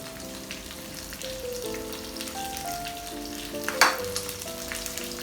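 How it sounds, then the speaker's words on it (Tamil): Shallots, garlic and curry leaves fry in oil in a pan for Chettinad fish curry, giving a steady close sizzle with a sharp crackle near the end, over faint tonal background music. "போட்டு பொன்னிறமாக நல்லா வறுத்துக்கிங்க"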